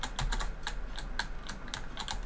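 Computer keyboard keys tapped in an irregular quick series while navigating menus in Elite Dangerous Odyssey, close and clicky, with no talk.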